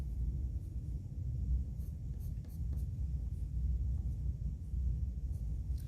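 A pencil scratches steadily across paper while a head-and-shoulders cartoon self-portrait takes shape, quiet, close strokes over a low room rumble.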